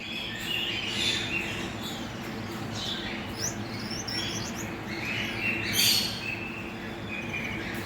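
Sun conure parrots in a cage give repeated shrill chirps and squawks over a constant low background hum, with a louder burst of calls near the end; no one speaks.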